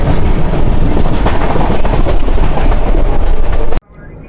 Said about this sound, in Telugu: మనం స్టేషన్లోకి ఎంటర్ అవుతున్నాం.